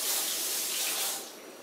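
Water pouring steadily from a tap into a container for raspberry lemon detox water, a close hissing splash that tapers off near the end.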